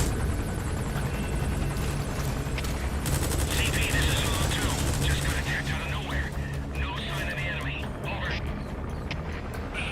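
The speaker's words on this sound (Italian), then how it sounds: "Ok, l'elicottero lascia con me." Video game helicopter in Metal Gear Solid V, a steady loud rotor drone with dense machine-gun fire and explosive bursts layered over it, continuous throughout with no pause.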